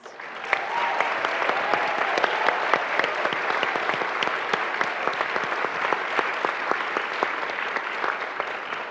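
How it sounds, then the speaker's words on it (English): A lecture audience applauds the cast of a stage performance, a sustained, full round of dense clapping lasting several seconds with no talk over it. "another round of applause for our extraordinary cast"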